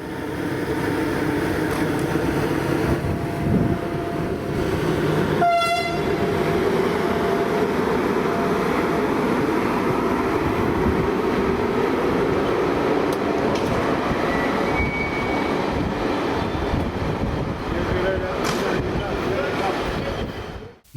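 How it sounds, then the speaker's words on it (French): A regional train on a railway line in the Lim valley passes close by from a stationary carriage: a loud, continuous rumble and rolling wheel noise, a brief squealing screech partway through, and faint clatter toward the end. "Un train régional attend notre passage pour aller vers le sud."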